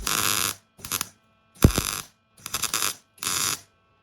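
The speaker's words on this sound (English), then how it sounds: "I'll weld it up via MIG butt welding" MIG butt welding of car body steel, close and steady: five crackling, buzzing bursts of about half a second each, separated by short pauses, with a faint electrical hum in the gaps.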